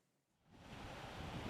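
Waves breaking at a seaside restaurant in Italy, forty-five minutes from Rome, rising from quiet into a steady, soft wash of surf with wind rushing across the microphone.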